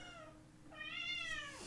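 A domestic cat gives one drawn-out meow that rises and falls, close and clear over a quiet indoor background.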